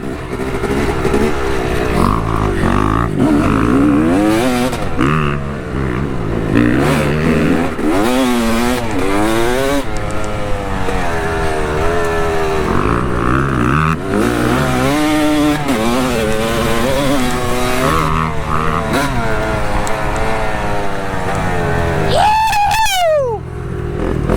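Dirt bike ridden along an urban trail, its engine loud and close throughout, revving up and down in constant rising and falling sweeps with no talk over it.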